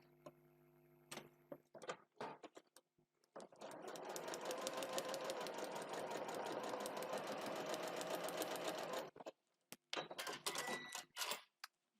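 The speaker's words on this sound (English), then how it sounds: "Under the machine, and we're going through the seam allowance at either end of the line." A sewing machine stitches through fabric and seam allowance for foundation paper piecing a small heart block: a few short bursts, then a sustained run of rapid mechanical stitching for about five seconds, followed by brief stops and starts.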